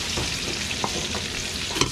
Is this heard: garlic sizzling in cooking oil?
yes